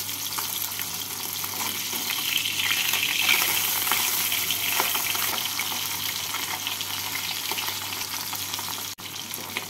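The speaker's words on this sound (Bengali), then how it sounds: "এক দিকটাকে লাল করে ভেজে নিয়ে উল্টে আরেক দিকটাকেও লাল করে ভেজে নিচ্ছি।" Tangra fish frying in oil in a home kitchen pan, a steady dense crackling hiss running throughout at moderate level, with a constant low hum underneath and a brief dip near the end.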